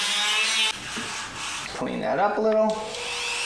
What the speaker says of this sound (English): try to open this hole up a little bit with a Dremel